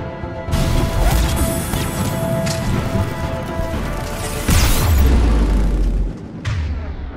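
Grenades go off in Mass Effect 3 combat: heavy booming blasts and crashing impacts, one big low explosion midway, over a dense, loud wash of battle noise.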